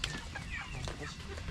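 Backyard chickens clucking in short, scattered bursts, close by, over a steady low background murmur.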